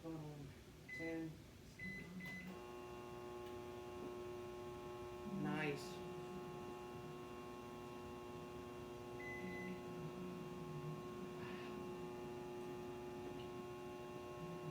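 A microwave oven running on a 2000 watt inverter gives a steady electrical hum throughout, with a few short beeps, while someone speaks briefly over it.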